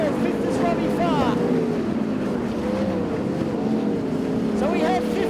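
Sprint cars race at Valvoline Raceway during the 2014 Scott Darley Sprintcar Classic, their engines a steady, droning roar that rises and falls as they lap. A commentator talks over the noise throughout.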